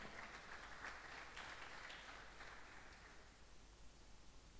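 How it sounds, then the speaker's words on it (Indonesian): Church congregation applauding during a sermon, a faint, steady wash of many distant handclaps blending into continuous noise with no talk over it. "Beri tepuk tangan untuk Tuhan kita."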